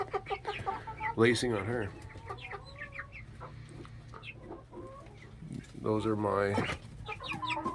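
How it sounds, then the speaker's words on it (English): Backyard chickens, two roosters and several hens of varying darkness, cluck and squawk close by, with two loud bursts of raucous calling standing out over a steady low murmur of clucking while a person talks in between. "We got two rooster. There's another hen there."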